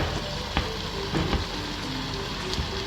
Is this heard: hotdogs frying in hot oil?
yes